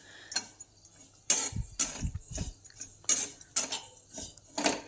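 A metal spoon stirs fennel seeds (badishep) in a pan at home: light clinking and scraping against the pan in irregular bursts, close and fairly quiet.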